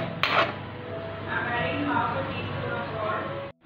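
Dishes and utensils clink and scrape while green Thai curry rice is plated for lunch, with a sharp clatter near the start followed by quieter handling under a speaking voice.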